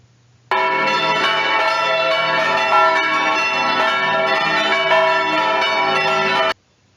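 Swinging church bells ring in random order, a dense, loud clangour of overlapping strikes sustained for about six seconds between silences.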